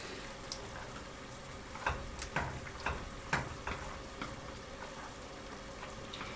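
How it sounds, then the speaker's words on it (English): Thin udon noodles stir-frying in a pan, with a low, steady sizzle under a cluster of scraping stirs and clinks in the middle of the clip. No one speaks. "And you continue to stir it so that the sticks won't stick together"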